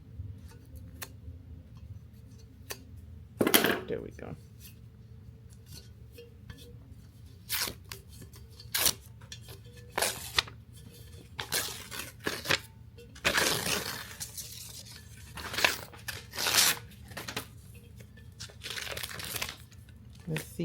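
Heat transfer film being peeled off a tumbler with the help of scissors after an HTVRONT auto tumbler heat press, giving bursts of crinkling, tearing rustle between pauses, close up, with a person talking briefly.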